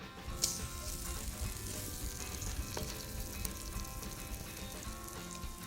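Onions and bacon fry in a pan with a steady, close sizzle and crackle, joined by occasional scraping stirs, with no one talking.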